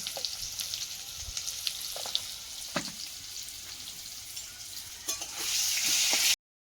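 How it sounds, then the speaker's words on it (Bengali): Potatoes fry in oil with turmeric and salt, a close, continuous sizzling crackle with scattered stirring scrapes and taps, growing louder just before cutting off. "হলুদ আর লবণ দিয়ে আলুটা ভেজে নেব"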